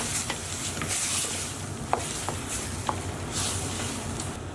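Pine nuts with ground cinnamon and cardamom frying in a pan for Lebanese hashweh rice, a steady soft sizzle with occasional stirring clicks and scrapes.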